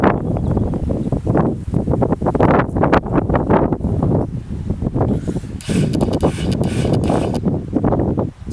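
Strong wind buffets the microphone in loud, uneven gusts, with rumbling bursts throughout and no voices.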